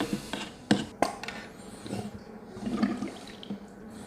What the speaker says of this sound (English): And then with our turkey baster, kind of stir things up just a little bit.